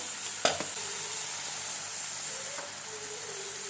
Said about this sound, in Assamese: এইখিনি আৰু অলপ ভাজিব লাগিব।